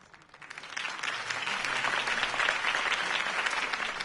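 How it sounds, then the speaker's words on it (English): A video game crowd in a Batman game claps and cheers steadily, swelling quickly from a quiet start into sustained, dense applause that holds for several seconds. "could have heard that applause"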